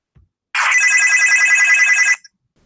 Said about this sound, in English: how the hell is this phone ringing?